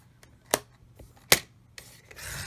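Card paper being cut for a handmade Christmas card, with two sharp, close clicks of a paper trimmer or blade followed by a drawn-out scraping slide across the sheet in a quiet room.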